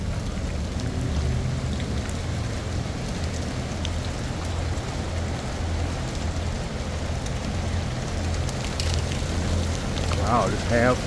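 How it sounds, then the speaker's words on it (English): Hard rain falls steadily across an outdoor fall festival with food stands and rides, a dense continuous hiss that stays constant throughout, with faint background sounds mixed in. "It's starting to rain hard."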